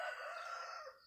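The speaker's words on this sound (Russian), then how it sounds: "петушок спел" A rooster crows once, a brief, fairly faint call heard at a distance.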